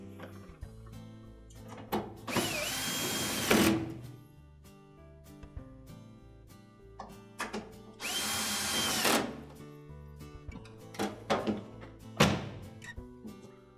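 A power drill drives screws into a Whirlpool washer's door latch assembly in two loud bursts, each about a second and a half long, with clicks and thunks of handling between them and no talking.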